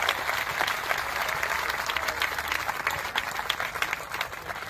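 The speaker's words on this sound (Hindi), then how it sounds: "एक बार जोरदार इन 3-4 साथियों के लिए तालियां हो जाए" A large crowd at a political rally applauds steadily, dense clapping holding at a strong, even level throughout with no gaps.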